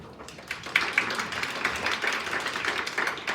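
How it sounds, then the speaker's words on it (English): A small group claps steadily, a brief patter of applause without voices. "Please give a rousing applause"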